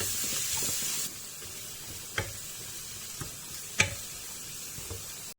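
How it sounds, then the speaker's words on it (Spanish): Chopped vegetables soften in a pan over medium-low heat, giving a soft, even sizzle with a few sharp spoon scrapes and knocks as they are stirred, close and fairly quiet. "vamos ahora sí que a bajarle el fuego a fuego medio bajo hasta que tengamos esto bien pochadito, removiendo también a menudo"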